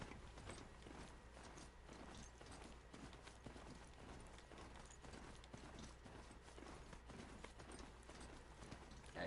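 Horse hooves galloping in Horizon Zero Dawn, a rapid rhythmic clip-clop that runs steadily throughout at moderate volume, blended with soft mechanical game ambience.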